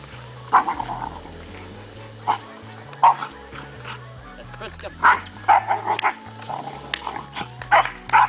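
A dog barks and yips in short bursts at irregular intervals, mixed with whimpering, while a voice talks over it.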